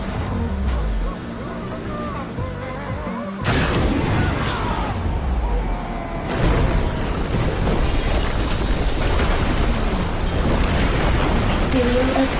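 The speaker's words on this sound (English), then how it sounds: "Serial explosions detected." Serial explosions in the Xbox One game ScreamRide, a run of loud booming blasts with crashing debris layered over continuous game music and rumble, the burst growing denser and louder partway through.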